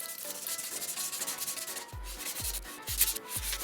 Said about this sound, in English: I'm literally just sanding the surface